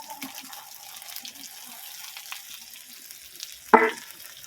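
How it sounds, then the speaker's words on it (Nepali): Chunks of meat frying in a home kitchen pan with spices give a steady, faint sizzle throughout, with a sudden louder clatter near the end. "मासुलाई भुट्नुपर्ने हुन्छ 10 मिनटसम्म"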